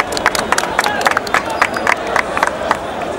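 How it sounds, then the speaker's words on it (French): A political party gathering breaks into scattered clapping, with separate sharp claps popping out in an uneven rhythm over a murmuring crowd and talk. "Je vous demande d'applaudir un peu."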